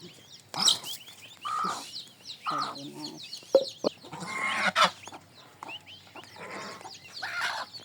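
A hen with her chicks and other chickens cluck and chirp nearby in short, irregular bursts, with faint peeping from chicks between the louder calls.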